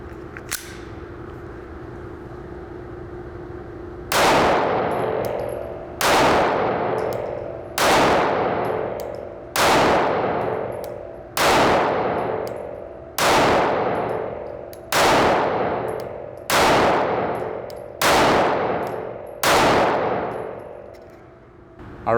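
A Sig Sauer P365 SAS 9mm micro-compact pistol empties a magazine. About ten loud, sharp shots are fired at a steady pace roughly every second and a half, each ringing briefly, after a quiet start.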